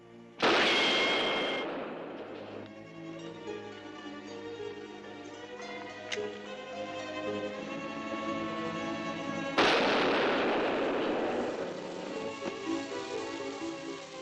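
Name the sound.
dynamite explosion sealing a mine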